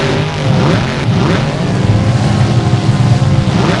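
Monster truck Tropical Thunder's engine roars loud and steady at a time-attack tournament, a continuous rumbling drone with rising revs, heard alone without talk.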